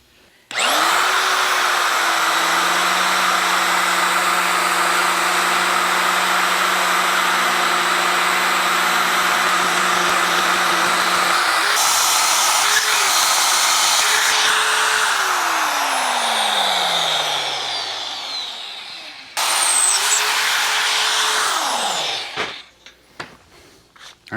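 A magnetic drill boring through the original holes of a steel hitch plate for a Chevy COE truck, a loud steady motor whine with tonal drone, pitch sliding as load changes, then spinning down and restarting briefly.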